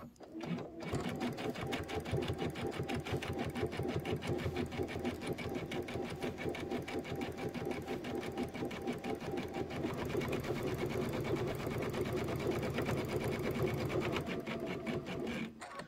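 A sewing machine stitches a quilt top in a steady, rapid mechanical patter, running continuously and close up with no talk over it.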